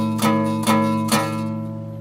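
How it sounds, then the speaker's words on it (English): Three strummed guitar chords in quick succession, each ringing out with a slightly buzzy, off-sounding tone before fading into a sustained decay. "guitarists will hear buzzes or like funny sounding notes"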